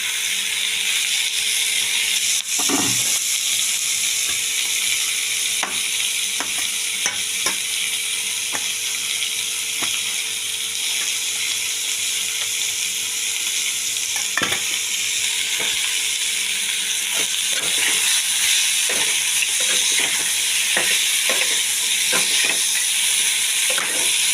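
Tomatoes fry and are stirred in a hot pan for a Bengali drumstick and bori curry, giving a loud, continuous sizzle with occasional scrapes and clicks from stirring. No voices.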